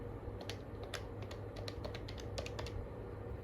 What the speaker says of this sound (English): use this little dial pad here to go down and type in a new password.